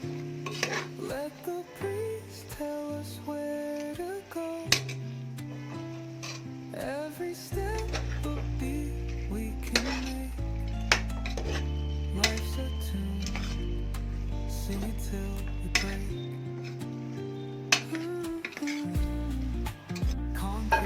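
Mutton masala stirred in a pot for biryani, repeated scraping and clinking of a spoon against metal over a soft sizzle, irregular strokes spread across about twenty seconds, fairly quiet.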